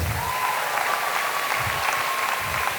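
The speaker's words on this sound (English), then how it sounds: "Please provide a round of applause for Evan Kempf, Stella Ristic," A crowd at a senior recognition ceremony claps steadily for a few seconds, a sustained wash of applause with no voices rising above it.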